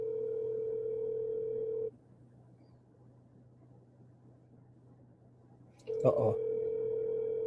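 An outgoing phone call rings back with a steady electronic tone for about two seconds, falls silent, then the tone resumes as a voice briefly exclaims over it.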